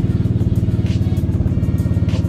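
A Vespa Sprint scooter engine idles steadily after warm-up, close and loud, with an even, rapid low-pitched putter and faint mechanical clatter throughout.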